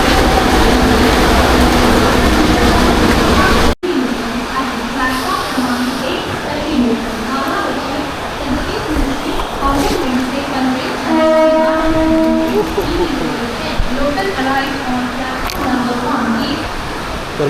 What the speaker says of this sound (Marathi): मित्रांनो आता ट्रेन आले